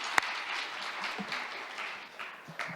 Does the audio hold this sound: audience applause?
yes